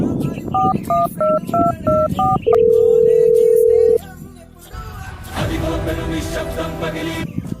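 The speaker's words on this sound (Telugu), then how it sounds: "అరే ఒకసారి మా అన్న కాల్ చేసి చూద్దాం" Phone keypad tones beep out a number in a quick run of six short dual-tone presses, followed by one long steady tone, then a noisier stretch of background sound.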